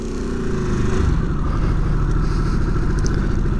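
A 2022 Harley-Davidson Sportster S motorcycle engine runs steadily and loudly, close by, during a road test ride. Its dense, continuous rumble holds throughout, with no talking.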